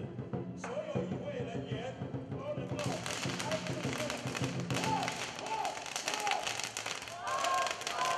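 Strings of firecrackers pop and crackle densely and continuously at a steel beam raising ceremony, with a voice talking over the din throughout.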